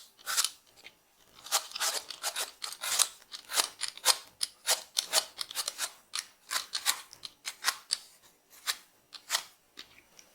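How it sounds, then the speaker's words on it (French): Apples being peeled for a galette des rois with caramelised apples and almond cream, a quick run of close, crisp scraping and slicing strokes in uneven bursts with no talk. "On commence par éplucher les pommes."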